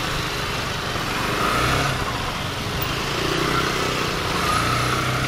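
Heavy road traffic along Roxas Boulevard fills the scene with a dense, constant roar of motorcycle and car engines idling and creeping, with a few nearby revs over the steady rumble.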